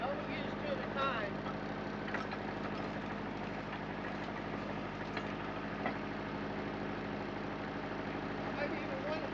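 Sugar cane mill driven by a turbine and hydraulic motor, giving a steady, loud mechanical drone that runs throughout, with a person talking over it.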